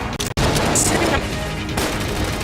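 Rapid gunfire from an overpowered gun in the video game Enter the Gungeon during the Bullet King boss fight, a loud dense barrage of shots that carries on almost without pause.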